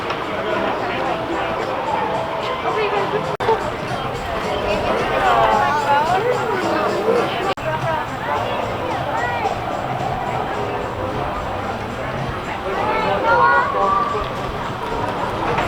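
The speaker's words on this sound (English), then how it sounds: "it kind of feels like a normal day in terms of crowd levels here at Disney Springs right now" Steady crowd chatter and babble at Disney Springs, a busy outdoor shopping area, with many voices overlapping at a moderate level and occasional footsteps mixed in.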